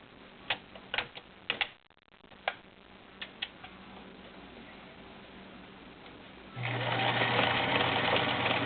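A vintage Kenmore model 1802 sewing machine sews a stretch stitch. A few sharp ticks and clicks come first, then the motor starts up and runs steadily at close range with a continuous whirring buzz.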